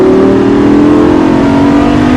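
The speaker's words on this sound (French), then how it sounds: "Allez, chante le moteur." Lamborghini LP560 engine revving hard at full throttle on a racing circuit during a track driving course, a loud, steady, sustained roar with a strong low drone held throughout, no talk.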